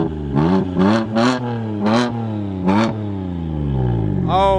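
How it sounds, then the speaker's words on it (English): BMW 135i fitted with a quad exhaust, parked, its engine revved repeatedly in several sharp bursts that rise and fall over a steady idle, close and loud, with a final quick blip at the end. "Give it a few more revs, make sure it's in park."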